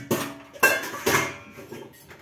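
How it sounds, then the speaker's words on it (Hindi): A metal pressure cooker is opened in a home kitchen, with three sharp metallic clanks of lid and pot, each fading away, followed by softer rattles and no speech. "पर जी अपन खोलता कुकर तो देखेंगे"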